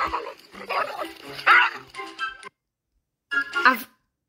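Two dogs whine, yip and give short grumbling barks close by, in uneven bursts that break off into a moment of silence before a final yelp.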